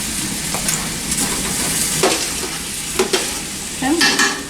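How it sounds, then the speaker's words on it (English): Onions cook down in a pot for three-bean chili, sizzling steadily close by as a spoon stirs and knocks against the pot several times. "I'm going to just cook it down some more so that the onions are cooking"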